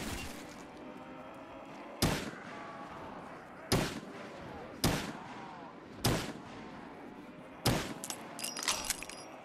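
Heavy single gunshots in a Call of Duty zombies map set on a zombie street, about six sharp loud blasts spaced a second or two apart over a continuous game background, the last followed by extra clatter.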